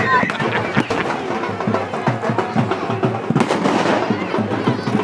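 Loud firecracker blasts go off at a Chhath Puja gathering on the Dhansiri River ghat in Bokajan, a dense run of sharp bangs and crackles over a noisy crowd with voices throughout.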